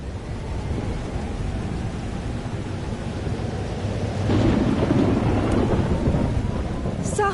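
A thunderstorm with steady rain rolls on in the video game Life Is Strange, a continuous hiss of downpour with a deep swelling thunder rumble building midway and lingering.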